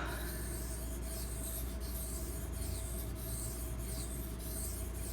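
A kitchen knife is drawn steadily across a Pride Abrasives 3000 grit water stone, a continuous wet grinding rasp with faint rhythmic swells from repeated strokes, close and unbroken with no talk.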